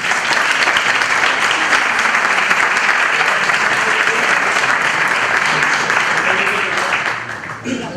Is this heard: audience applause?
yes